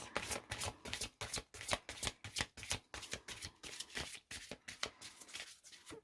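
Tarot cards are shuffled by hand in quick, rhythmic bursts of papery riffles and slaps, close and steady throughout with no talking.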